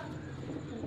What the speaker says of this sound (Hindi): ओ देखो कबूतर भी नीचे आ गया।